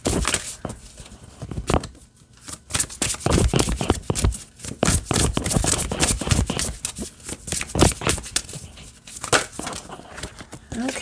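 Oracle cards being shuffled overhand by hand, a continuous run of rapid papery riffles and slaps, loud and close, with short pauses between bursts.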